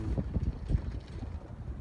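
A soft, steady wind blows across an open desert field among flowering daisies, a low continuous rumble of air against the microphone with no voices.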